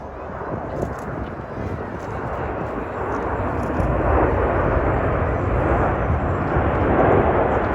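RAF Red Arrows jets at an air show in Canada roar as a loud, broad, sustained rumble that builds steadily, with a commentator's voice faintly underneath.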